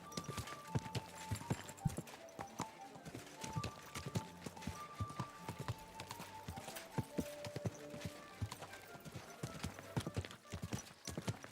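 Horse hooves clip-clop on the ground in a medieval Bohemia video game, a steady, rhythmic run of close, sharp hoofbeats with an occasional faint whinny beneath.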